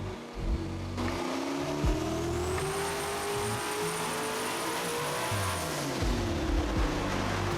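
An LS engine fitted with a TNT 485 turbo roars through a dyno pull on 5 pounds of dome pressure, a loud, sustained, rising drone with a high turbo whine, heard close and without talk.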